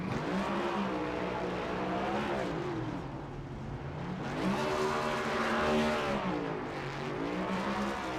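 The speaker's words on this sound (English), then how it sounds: "Some well-deserved burnouts for Stevie Williams here tonight." Stevie Williams' race car does celebratory burnouts at the start-finish line at night, its engine revving in repeated rising and falling waves of loud, harsh roar, with tires squealing underneath.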